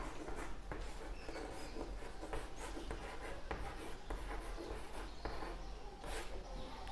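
Math equations being written on a board, a quiet series of short scratchy strokes and taps in irregular rhythm, close by, with no talking over them.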